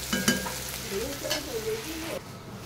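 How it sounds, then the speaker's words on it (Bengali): Fish frying in a wok gives a close, steady sizzle with stirring scrapes, while a voice talks over it before the sound drops away near the end. "এই কড়াইতে মাছটা ভেজে তরকারিটা বসাই দিতেছি।"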